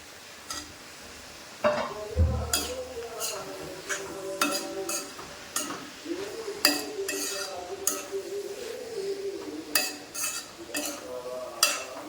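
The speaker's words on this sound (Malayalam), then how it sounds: "അപ്പം നമുക്കിതൊന്ന് കൂട്ടി ഇളക്കാം." Eggplant stir-fry with green chillies is stirred in a pan, and a spatula scrapes and clinks against the metal again and again in an uneven rhythm over a soft sizzle, close by, with a voice briefly audible.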